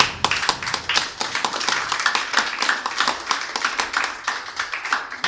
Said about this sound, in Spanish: ¿Cuánto le damos un aplauso a él por eso?